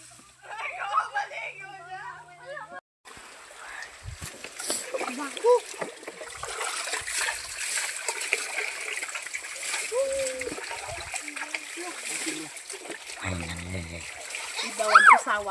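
Water splashes and sloshes as several people bathe outdoors in a natural water spot, irregular and close, with a boat-like knocking now and then and people chatting and calling out over much of it.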